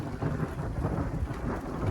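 Thunder rolls as a low, continuous rumble during a lightning storm, with rain hissing steadily over it. No voices are heard.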